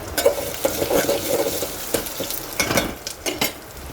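Rice rava roasting in a pan for upma, a dry, close sizzle with repeated scraping strokes of a spoon through the grains, irregular and fairly loud, with no voices.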